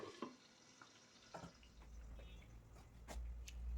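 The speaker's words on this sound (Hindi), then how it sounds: "गरम जब अच्छे से हो जाए तेल तो उसमें आलू जो है डाल देना होता है, बढ़िया से डाल के बहुत अच्छे से इसको फ्राई करना पड़ता है।" Potatoes frying in hot oil in a wok, a low steady sizzle that grows louder toward the end, broken by a few clinks and scraping kitchen sounds.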